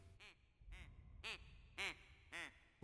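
A duck in a Backrooms-style video game quacks about six times in a slow, even rhythm, each quack short and nasal and fairly faint, with near silence between them.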